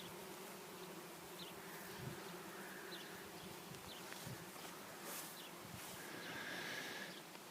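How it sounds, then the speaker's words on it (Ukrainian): Continuous hum of numerous bees at close range, a dense steady drone with individual insects passing nearer now and then. "Отак працюють бджоли."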